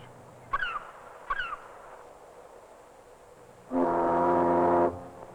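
A boat gives two short hooting calls, then a single deep, steady foghorn blast lasting about a second, fairly loud against a quiet background.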